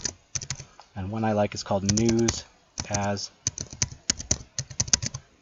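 Crisp keystrokes rattle on a computer keyboard while typing an email request in Winlink, coming in quick uneven runs close to the microphone. Someone talks over part of the typing, and the clicks continue between his phrases.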